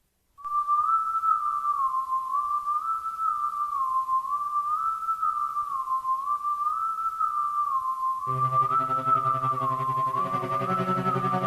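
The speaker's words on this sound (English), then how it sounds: "Listen to that whistling." Eerie whistling in Doom level music: a single wavering whistled tone sustains for many seconds, joined near the end by a low droning synth layer, with no talk.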